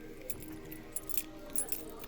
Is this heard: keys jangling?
yes